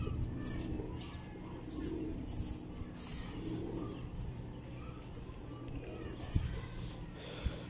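A school-type breeding pigeon coos softly in a rhythmic series of low murmuring calls, fairly faint, with someone talking and other birds audible in the background.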